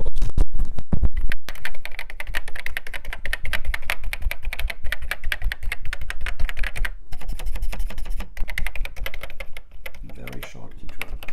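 Rapid, continuous typing on an unusual Commodore C64 keyboard with the microphone placed right beside the keys, giving dense close-up clacks and taps with brief pauses, loud and alone.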